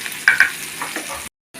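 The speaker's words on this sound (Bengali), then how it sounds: "পেঁয়াজটা একটু ভাজে নিতে হবে।" Chopped onion fries in hot oil in a pan, giving a close, steady sizzle with a couple of sharp stirring clatters, then a brief silence before the sizzle returns.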